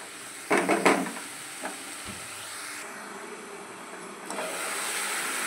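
A spatula stirring cooked spinach curry with onion in a hot pan, a few scraping clatters early on over a steady sizzling hiss of oil, then a brief scrape later while the sizzle continues.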